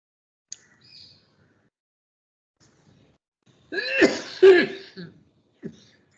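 A brief cluster of raspy coughs sounds close by after a mostly quiet stretch, with a small click before and a faint noise after.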